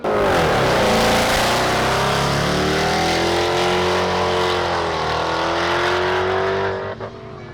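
A Hellcat-swapped Dodge Magnum launches hard at the drag strip, its engine roaring loud and close with rising revs through the run before fading out at the end.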